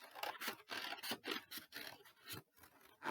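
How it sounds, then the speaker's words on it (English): Scissors cutting along a line in card, a series of close, crisp snipping scrapes in a steady irregular rhythm, with no talking. "So now you're going to cut along that line for that one half of your piece of card."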